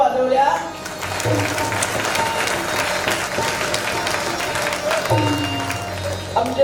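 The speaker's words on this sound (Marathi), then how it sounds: "काय लोकांनी टाळ्या वाजवल्या." An audience at a religious discourse claps in a sustained round of applause that fills the whole stretch, while a voice speaks over it at the start and again near the end.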